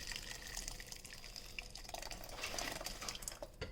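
Blended chilies and bone broth poured into a pot for birria, a soft continuous liquid pour with gentle dripping and splashing, quiet and close.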